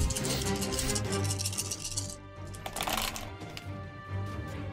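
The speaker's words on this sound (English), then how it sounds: "That is a satisfying noise. Bunch of dice." A fistful of dice rattling and clattering together as they roll across a table during a tabletop game session, a busy, dense clatter lasting several seconds with no speech.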